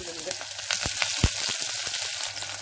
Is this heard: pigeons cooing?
no